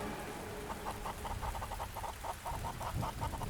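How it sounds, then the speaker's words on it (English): Chickens cluck in an agitated, rapid rhythm inside a poultry shed at night, the repeated calls faint and somewhat distant over a steady background hiss of rain. "I was jolted awake by an unusual sound of chickens"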